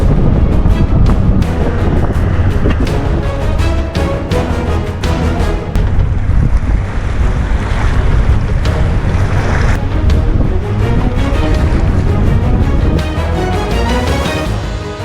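A boat crossing the Strait of Tiquina on Lake Titicaca, rocking heavily on choppy waves, with loud continuous wind and water rush, repeated slapping knocks and thuds against the hull, and steady engine rumble beneath.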